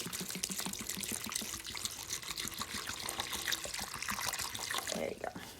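Warm water pours steadily into a cleaning bucket holding a rag, a close, continuous splashing trickle that shifts slightly in tone near the end.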